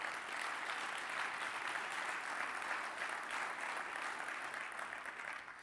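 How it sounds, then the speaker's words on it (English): An audience at an annual meeting's opening plenary session applauds sponsors with steady, sustained clapping that fills the hall evenly and tapers slightly at the end. "Please give them all a round of applause."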